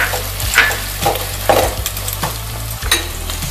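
Chopped onion and tomato fry in a pan for an Odisha-style rohu curry with yogurt and mustard, a steady close sizzle broken by a few sharp spatula scrapes and clinks against the pan, with no voices.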